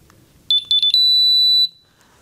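A Honeywell gas detector powers on with a quick run of sharp electronic beeps, then one sustained high tone with a low hum beneath it that cuts off after about a second. Close and loud, with no talking.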